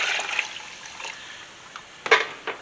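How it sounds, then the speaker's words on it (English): Water is poured into a pot of browned beef for soup, a close rushing splash and trickle that eases off, then returns in a couple of brief, louder gushes. "Now we're going to add about 3 quarts of water."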